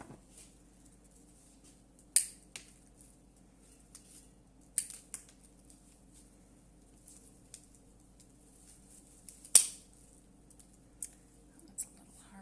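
Wildflower bouquet stems snipped at the bottom, with several sharp isolated cuts spaced a few seconds apart over a faint background hum.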